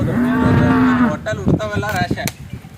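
An old desi cow at a home gives one long, loud, close moo lasting about a second, followed by softer shuffling and nearby farmyard noise, with faint voices in the background.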